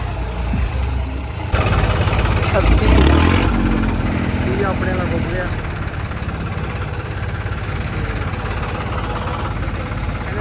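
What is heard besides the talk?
3630 tractor engine stuck in sand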